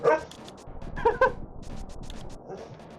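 A pet dog named Lola gives a few short, sharp barks close by in a room, with brief yips and whimpers around them and quieter stretches between.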